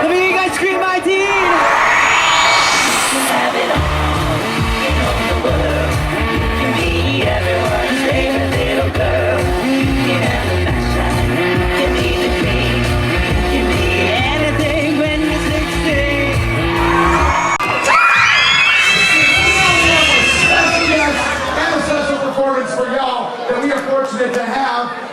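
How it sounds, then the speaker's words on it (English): Teenage crowd at a live event screaming, whooping and cheering loudly and continuously, mixed with amplified music and an MC's voice over a loud sound system. "Let me hear you guys scream I-Teen!"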